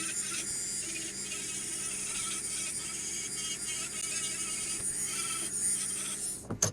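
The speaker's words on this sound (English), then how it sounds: "Also using a small Cratex wheel to do some additional work here." A small Cratex rubber-bonded abrasive wheel runs against a carbide-shank boring bar, giving a steady high, thin whine with faint scratchy contact, continuous and close up, with a brief louder bump at the very end.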